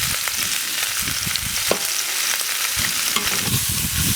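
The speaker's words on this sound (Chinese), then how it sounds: "皮朝下煎一煎，这些给炒出油来，煎出油来" Pork belly frying skin-side down in a hot wok for red-braised pork, a loud dense continuous sizzle and spatter of fat with occasional pops, close and without talk.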